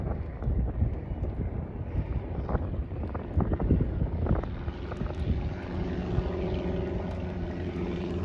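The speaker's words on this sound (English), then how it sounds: "It's a low-wing aircraft." A twin-engine low-wing aircraft flies near a local airport during a wildfire, heard as a steady, rumbling engine drone under heavy wind noise, with a faint tonal hum emerging toward the end.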